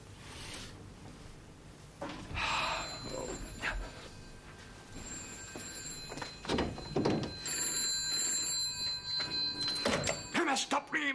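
An old landline telephone bell rings out in a room in a 1970s drama, a few sharp rings mixed with thuds and handling noises, with voices speaking around it.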